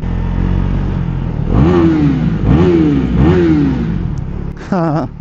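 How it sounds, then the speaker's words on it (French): A 400cc motorcycle engine revs three times in quick succession, each burst rising and falling, close by, followed by a brief sharper rev at the end. "la moto fait pas plus de bruit que ça en vrai de vrai"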